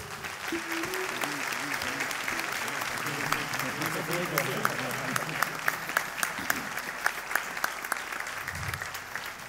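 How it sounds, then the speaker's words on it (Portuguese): Audience applause at a fado concert in the Teatro Angrense, sustained clapping from the hall with a voice talking over it early on, sharp individual claps standing out toward the end. "Eu ia pedir uma grande, grande salva de palmas também para este povo."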